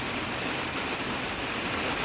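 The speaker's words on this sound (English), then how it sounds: "it's so loud in the greenhouse right now with all this rain." Heavy rain drums steadily on a greenhouse during a tropical downpour, a dense, even broadband hiss and patter with no pauses, loud and close, filling the whole space with no voices over it.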